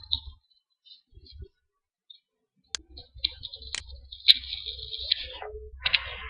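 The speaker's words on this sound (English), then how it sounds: "click on the setup file" Computer mouse clicks while starting the Packet Tracer software installer, a few sharp isolated clicks that stand out against quiet background noise, with faint speech-like sounds after them.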